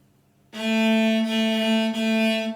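A single bowed cello note starts after a short silence and is held steadily, rich in harmonics, with a slight break near the end.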